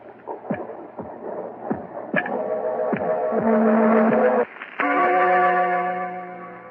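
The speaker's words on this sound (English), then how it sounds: "The beating of his telltale heart." A dramatic tonal score with swelling harmonies and sharp pulsing accents, like a heartbeat woven into eerie music, loud and continuous.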